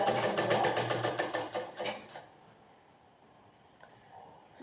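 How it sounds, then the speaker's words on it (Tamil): Sewing machine stitching the side seam of a baby frock, a rapid steady whir of needle strokes for about two seconds, then stopping and leaving near silence. "உள்பக்கத்தில் தையல் போடுறோம்."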